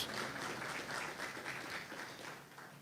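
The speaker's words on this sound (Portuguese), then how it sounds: "Você pode aplaudir ao Senhor?" A church congregation at a Baptist Sunday service applauds, a dense, even patter of many hands clapping at moderate, somewhat distant level, easing off toward the end.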